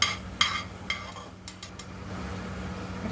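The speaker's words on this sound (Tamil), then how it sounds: "1 ஸ்பூன் உளுத்தம்பருப்பு, இதை நம்ம நல்லா வறுத்து எடுத்துடலாம்." Urad dal roasts in a pan while a spoon stirs it, giving a quiet dry sizzle with several brief scraping strokes and clinks in the first half.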